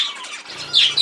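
A young, nearly fully feathered zebra finch gives high, thin chirps, brief and fairly close, with a louder burst of calls near the end and no talk.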